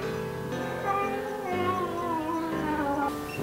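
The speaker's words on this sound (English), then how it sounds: "That's a cat." A cat being washed in a bath lets out a long, drawn-out wavering meow, loud and close, continuing almost without a break across the whole moment.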